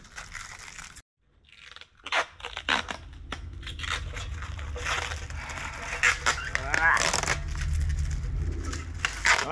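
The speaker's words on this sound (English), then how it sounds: "The hardest part about assembling the Vegega is peeling that plastic." Protective plastic film being peeled and crinkled off Vegega raised garden bed panels, a close, continuous crackling and crunching with irregular tearing bursts after a brief silent gap.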